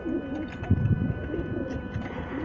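A large Rampuri brown pigeon coos in low, soft bursts, loudest near the start and middle, fairly close against a quiet background hum.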